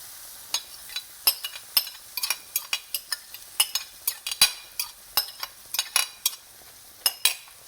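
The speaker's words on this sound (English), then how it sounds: "just stir it, put your flame on medium, stir and mix" Eggs and vegetables for a turmeric vegetable omelette stirred in a frying pan over medium flame, with a soft sizzle under repeated sharp utensil scrapes and clicks against the pan, close and irregular.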